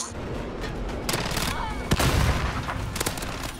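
Rapid gunfire in Call of Duty Modern Warfare, a steady dense stream of shots and short bursts with a few louder booms, continuous game noise throughout and no clear speech.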